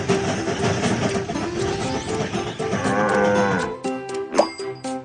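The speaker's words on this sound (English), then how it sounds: "Some sheep are on the train track." Cartoonish cattle mooing inside a children's train video game where sheep block the track, layered over bright game music with chimes and a ding near the end.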